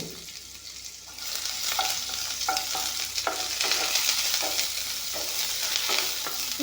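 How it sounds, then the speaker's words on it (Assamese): Chopped onion and garlic fry in a hot pan with a moderate, steady sizzle, stirred throughout so that scattered utensil scrapes and taps rise over the crackle, with no talking. "এইখিনি অলপমান ভাজি লৈছোঁ।"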